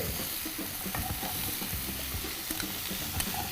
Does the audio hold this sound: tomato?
yes